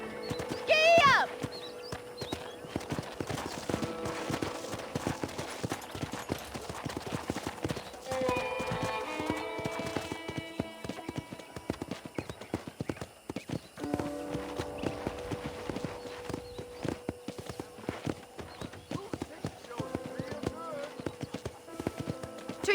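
Horse hooves clip-clop at a steady trotting rhythm in Red Dead Redemption while a ranch tour goes on, with a brief whinny at the start and a narrator's voice talking over the hoofbeats.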